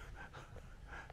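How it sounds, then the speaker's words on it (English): A dog huffing and panting close by at a fishing spot on a billabong, soft rapid breaths in a steady rhythm over low background noise. "It sounds like a koala. I reckon he's huffing Buddy."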